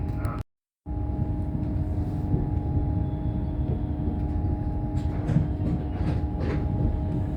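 A GWR IET Class 802 train pulls away from a station, heard from inside as a steady engine and traction hum with a constant tonal drone and rolling rumble, briefly cut out near the start.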